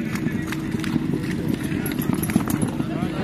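Horse hooves galloping at a tent pegging competition, a steady rumbling beat partly buried in loud crowd and arena noise throughout.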